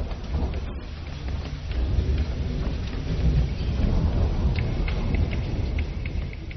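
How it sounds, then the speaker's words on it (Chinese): Heavy rain pours steadily in a Chinese mountain region near Pengshui, with deep rolling thunder rumbling beneath a dense, continuous hiss of rainfall throughout. "三天之后，一场大雨果然如期而至。"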